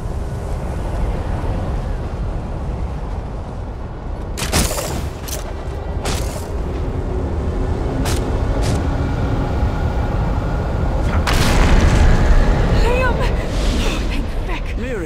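Explosions boom as an array is destroyed, with sharp blasts near 4.5, 6 and 11 seconds standing out over a constant roaring, rumbling backdrop that swells toward the end, with voices mixed into the din.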